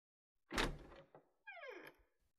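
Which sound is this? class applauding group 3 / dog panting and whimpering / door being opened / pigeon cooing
door being opened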